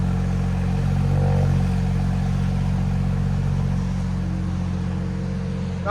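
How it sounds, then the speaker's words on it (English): Tuned 2017 BMW 540i with a 3.0L inline-six, stage 2 tune, downpipes and straight pipe, idling steadily after a cold start: a loud, even, low exhaust drone that holds constant throughout. "That was the cold start for a little bit."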